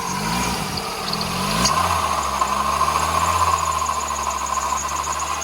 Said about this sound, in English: it's got quite an horrible rattle coming from the engine